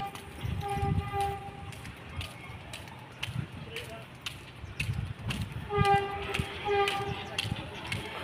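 A train horn blows long, loud, droning blasts, once near the start and again later, over the rumble of rail cars rolling past while heard from a vehicle, with occasional voices in the background.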